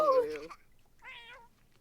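A cartoonish cat meows in a video game, a bright wavering call up front followed by a second, softer mew after a short pause, with nothing else around it.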